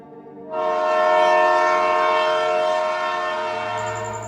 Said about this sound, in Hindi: और इसी धुएं के बीच उसे आती दिखी एक ट्रेन।